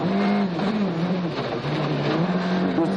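A Citroën rally car driven by Sébastien Loeb at the 2005 Swedish Rally, its engine held loud and steady at high revs with slight pitch dips as it misses a turn on a special stage, close and continuous.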